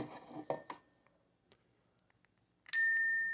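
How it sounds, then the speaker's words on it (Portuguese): A bright notification bell ding rings out once near the end, a clean sustained chime with a slowly fading tail, after a brief stretch of faint, near-silent ticks and soft clicks. "sininho para você ativar as notificações"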